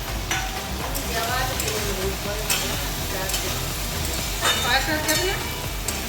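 Chili chicken for a picnic sizzles loudly in a pan while it is stirred, a continuous close frying hiss with occasional scraping strokes and faint background voices underneath.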